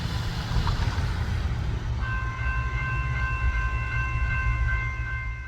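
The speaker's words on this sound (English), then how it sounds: "This train, however, turned out to be NS92G with an ex-Metroliner inspection car." A Norfolk Southern train with an ex-Metroliner inspection car rumbles past close by with a heavy, steady roar, and a sustained horn-like tone enters partway through and holds to the end.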